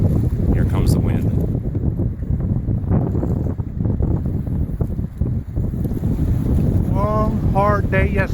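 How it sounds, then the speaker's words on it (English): Wind sweeping in over a lake ahead of a thunderstorm at a campsite, steady loud gusty roar buffeting the microphone, with brief voices near the end. "Here comes the wind."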